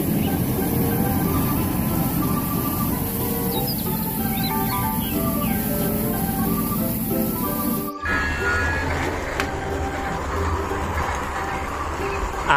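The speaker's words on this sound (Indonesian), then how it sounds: "Ada kereta api." A rumbling toy train rolls along beneath chirping birds and light melodic tones, steady and fairly loud, with an abrupt shift in the scene partway through.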